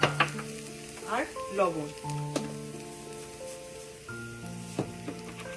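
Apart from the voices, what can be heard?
fried onions sizzling in a pan with pepper and salt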